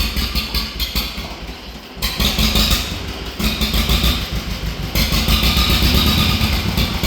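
An old tractor engine, a rare one that sat parked for years, idles with the choke off and runs slightly rich. The mid-pitched engine drone stays loud and steady and close throughout, with no voices.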